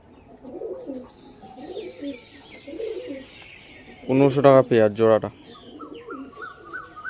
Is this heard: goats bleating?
no